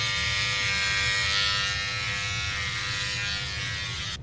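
An electric razor shaving, a continuous close buzzing hum with a steady motor whine, running alone for several seconds before cutting off at the end.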